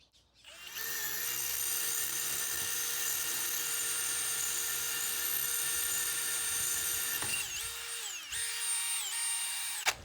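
A Milwaukee M18 Fuel 4th-generation cordless drill runs in a long, steady high-pitched whine with a motor hum underneath. Its pitch dips and wavers briefly near the end before it stops.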